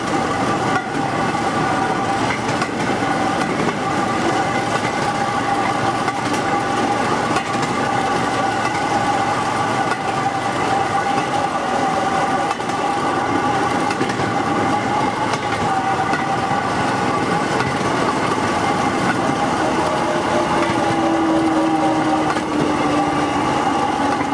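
A motor railcar riding a narrow-gauge peat railway rumbles steadily with engine drone and faint rail clatter, close and continuous throughout, with a high tonal whine near the end.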